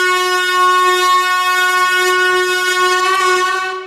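A high-speed train on the Ankara–Sivas line sounds a long, steady, loud horn with strong harmonic tones, held for several seconds before fading slightly at the end.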